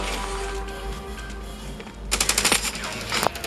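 Rapid automatic gunfire in the mobile shooter game Standoff 2 starts about halfway through as a quick burst of sharp shots, then a single louder crack near the end, over steady game background noise.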